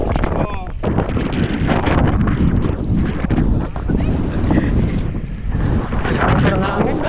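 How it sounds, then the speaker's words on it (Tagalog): Strong typhoon wind in Batangas roars steadily and loudly across the microphone, buffeting without pause, with a voice talking over the gusts. "Malakas na ang hangin."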